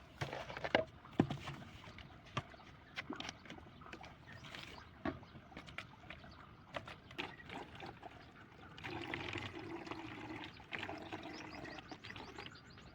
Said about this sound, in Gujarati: હવે આમાં અમે પાણી ભરશું